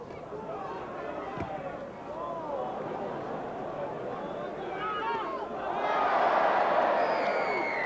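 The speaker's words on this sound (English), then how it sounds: "the roar of the crowd says it all" A stadium crowd at a 1988 Great Britain versus Rest of the World rugby league match keeps up a constant murmur, then swells into a loud roar near the end, with a commentator talking over it.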